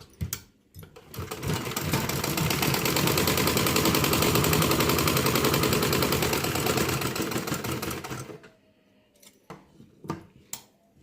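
Sewing machine running a double stitch on a dhoti salwar, a loud, continuous rapid mechanical whir for about seven seconds, then stopping, followed by a few light clicks and handling knocks.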